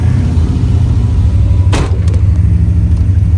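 A twin-turbo Cutlass 442 with a built 427ci engine and 4L80E transmission on a test drive, giving a steady low engine drone and road rumble from inside, with a brief swishing pass partway through.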